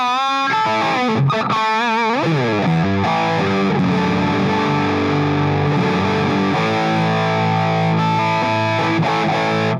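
Electric guitar runs through channel B of a Hughes & Kettner AmpMan with a simulated cabinet, giving a distorted, sustained riff with bends and held notes, loud and unaccompanied.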